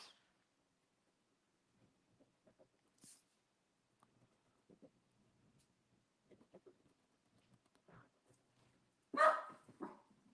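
Dogs give scattered faint yips and small barks in a quiet room, ending in one louder, closer burst of barking near the end.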